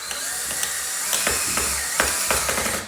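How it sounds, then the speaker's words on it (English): Brackets for 2-inch faux wood Venetian blinds are driven by screw into pre-drilled pilot holes, giving repeated short clicking, ratcheting bursts over a steady background hum. "let's watch him screw these in"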